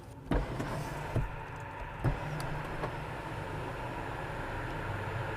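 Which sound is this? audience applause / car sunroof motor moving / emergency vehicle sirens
car sunroof motor moving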